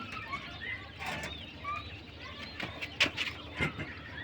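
King quails on a small Bangladeshi farm make scattered chirps and soft clucking calls, with occasional wing flutters and rustling over a low background murmur.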